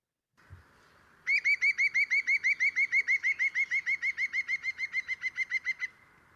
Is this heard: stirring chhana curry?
no